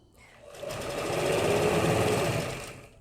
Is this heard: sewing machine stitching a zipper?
yes